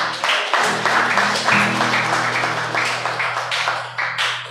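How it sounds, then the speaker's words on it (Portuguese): Congregation at a Pentecostal faith meeting applauding loudly, dense steady clapping from many hands over sustained organ or keyboard chords, with no talk over it. "Eu peço uma salva de palmas bem forte para Jesus"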